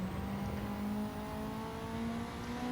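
An RCR Honda Civic in Gran Turismo 7 accelerating out of a corner at Tsukuba, its engine note climbing steadily in pitch as it pulls through the gear, loud and continuous with no talk.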